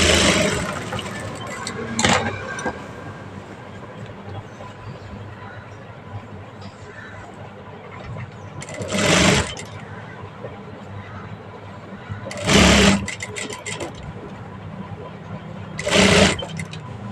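A sewing machine puts a running stitch on an old blouse sleeve in short, loud, close bursts spaced several seconds apart, with a faint hum in between.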